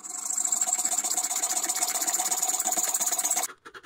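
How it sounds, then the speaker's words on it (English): A belt sander cleans up a freshly cast aluminum piece with a steady, loud, whirring grind that holds evenly for several seconds before abruptly cutting off and winding down. "I got smart and decided to use my belt sander"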